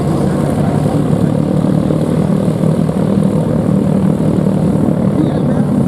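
A North American SNJ-206 trainer with a 9-cylinder, 600 horsepower radial engine flies over an air show, giving a loud, steady propeller drone that fills the whole stretch with no break.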